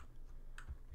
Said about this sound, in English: I'm hitting the arrow keys to highlight the time span column